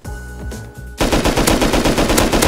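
Automatic machine gun fire in the video game Rust: a quiet hum gives way to a loud, rapid burst of evenly spaced shots that runs continuously to the end, with no talk.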